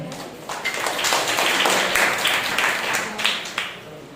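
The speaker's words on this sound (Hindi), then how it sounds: "इन सभी के लिए जोरदार तालियां हो जाएं।" A church congregation at a Sunday service bursts into loud, sustained applause, a thick wash of many clapping hands with a few sharper claps standing out.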